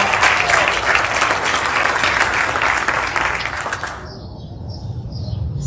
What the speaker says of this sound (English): And a round of applause for our disciples.